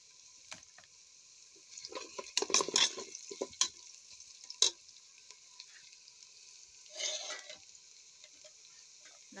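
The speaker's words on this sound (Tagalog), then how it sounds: "start na tayong mag-gisa ng sibuyas" Onions and half-fried okra sauté in a pan, sizzling as a steady bright hiss with bursts of louder crackle and spatter while they are stirred, heard close with no talking.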